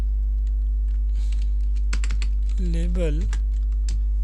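Computer keyboard typing as code is entered, scattered close key clicks in short irregular bursts over a steady low electrical hum, with a voice speaking briefly partway through.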